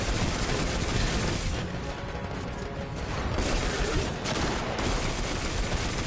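Enemy snipers firing in Destiny 2, heard as a dense, continuous clatter of game gunfire and impacts, loud and busy throughout with brief dips in the barrage.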